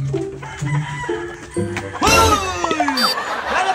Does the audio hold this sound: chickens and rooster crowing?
yes